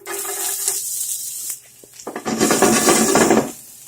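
Onions hit hot olive oil in a preheated skillet, sizzling loudly at first, then a short pause with a few clattering scrapes before a second strong burst of frying sizzle.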